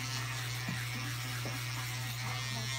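A Wahl 5-Star double foil electric shaver buzzes steadily and close up while shaving hair, with a constant motor hum and faint changes in tone as it moves over the head.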